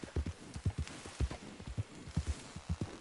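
Rhythmic horse hooves clip-clopping at a steady gait while riding in a PlayStation 4 video game, close and fairly quiet, with no talk over them.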